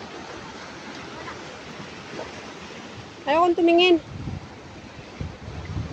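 Sea waves on a coast, a steady broadband surf roar with wind across the microphone, loud and close, while a person speaks briefly over it.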